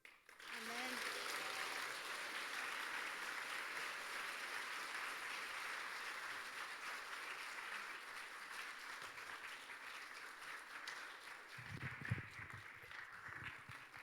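Warm applause rises from a church congregation at a testimony service, a steady, fairly soft mass of clapping sustained for most of the stretch, with a brief thud and a low voice near the end.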